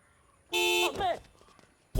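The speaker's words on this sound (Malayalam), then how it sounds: "ഇതിന് തോന്നുമ്പോ ഇത് ഹോൺ അടിക്കും" A car horn sounds on its own, one loud sustained honk of about half a second, followed by a short burst of nearby voices and another sharp sound cut off at the end.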